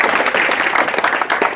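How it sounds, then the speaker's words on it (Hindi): A crowd claps in honour of women at a gathering, a brief burst of dense, steady applause, loud and close. "मैं महिलाओं के नाम पे ताली बजाना चाहता हूँ"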